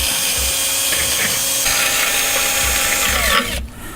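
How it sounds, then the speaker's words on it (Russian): Screws being backed out of the housing of a Daewoo DAST 7565 petrol snowthrower, likely with a power driver: a steady, close, loud whirring grind that runs for several seconds, then cuts off abruptly near the end. "Для этого нужно непосредственно на корпусе открутить два винта, которые здесь уже стоят."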